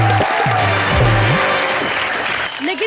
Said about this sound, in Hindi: तो एक बार हमारी जोड़ी के लिए जोरदार तालियां बजा दीजिए